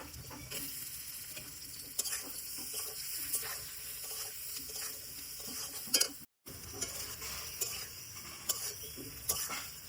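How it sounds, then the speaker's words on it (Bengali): Egg curry with ground cumin, coriander, chili and pepper sizzling in a pan on a clay stove, with a spoon scraping and stirring in steady bursts throughout, close and moderately loud, no talking. "এবার ভালো করে নাড়িয়ে নিয়ে মধ্যে ডিমগুলো দিয়ে দেব"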